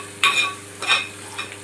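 Small Godavari shrimp curry sizzles in a pan while being stirred. Three short scraping stirs rise over a soft frying hiss, close and without speech.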